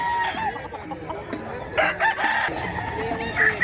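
A Kelso rooster crows at a busy pet market, with a loud crow rising mid-clip and another starting near the end, with clucking fowl and faint chatter in the background.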